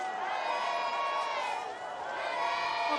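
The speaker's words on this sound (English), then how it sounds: "The crowd's going wild." A crowd at a Freeride World Tour ski event in Baqueira Beret cheers and whoops with a sustained, bright roar, swelling and dipping briefly, with a voice talking over the noise.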